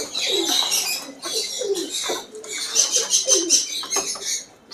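Pigeons at a large bird farm in Madurai coo in overlapping soft, throaty phrases close by, with bursts of higher chirping and fluttering patter between calls, no talking.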